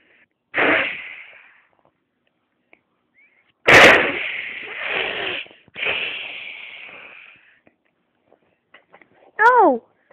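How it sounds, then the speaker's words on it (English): Bombs explode during an attack on San Francisco: three loud, sharp blasts, each with a rumbling decay, spaced a few seconds apart, followed by a brief high wavering cry. "They're bombing us!"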